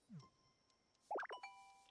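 A soft chime jingle from the Pokémon Pokopia video game plays once, a short bright rising run of tones ringing briefly near the end, with a faint plop before it and quiet background.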